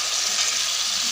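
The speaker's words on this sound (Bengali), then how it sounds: "এবারে এতে আমি জল দিয়ে দেবো।" Water poured into a hot cooking pan gives a steady, loud, broadband hiss and sizzle, close up and alone, lasting about a second without a break.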